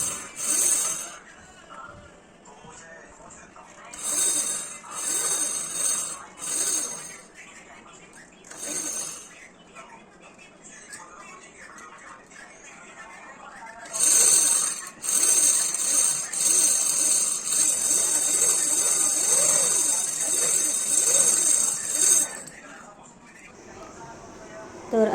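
A sewing machine runs in short, intermittent bursts to wind thread onto a bobbin, then in one longer stretch, giving a thin high whirring hum under steady talking nearby.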